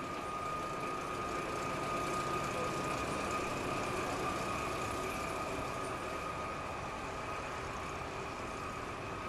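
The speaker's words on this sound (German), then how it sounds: "Im Bayerischen Eisenbahnmuseum rangiert 332-157." A DB Köf small diesel shunting locomotive, number 332-157, idling at the Bavarian Railway Museum: a steady, even engine drone with a constant low hum and tonal whine, moderately near, without talk.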